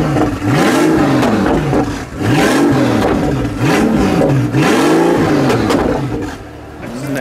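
A Pagani Huayra with an aftermarket exhaust revs hard in repeated loud bursts, each rising and falling with crackling backfires, close and dominant over faint background.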